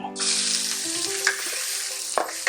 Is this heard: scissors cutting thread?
no